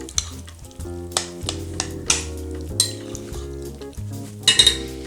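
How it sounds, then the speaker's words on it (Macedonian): Chicken meat sears briefly in a pan, a soft sizzle under repeated clinks and scrapes of a utensil stirring against the metal, close and clear with no talk. "Ставате се на едно место, пропржувате кратко."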